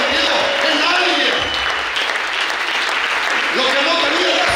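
Church congregation clapping during an evangelist's sermon, a dense continuous wash of applause that stays steady and loud from start to finish.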